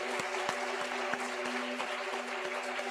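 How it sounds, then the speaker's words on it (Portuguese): An audience applauds at a church conference in Maceió, honouring an elderly patriarch. The clapping is dense and sustained, with a steady tone running beneath it and no voices over it. "Pastor Múcio, vamos aplaudir o Senhor pela vida desse patriarca."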